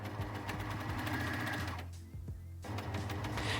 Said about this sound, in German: Ich nutze immer meine Overlock-Maschine, weil diese Nähte einfach schön flach sind und gleichmäßig sind.